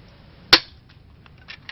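A single sharp, snappy shot from a spring-powered KAC PDW airsoft gun cracks out close by, followed by faint clicks and small rattling noises.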